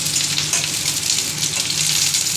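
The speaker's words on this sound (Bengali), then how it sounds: "পেঁয়াজটা একটু ভাজা ভাজা হয়ে গিয়েছে" Onions frying in a pan for pasta, a steady close hiss of sizzling oil with faint stirring scrapes throughout, no voices.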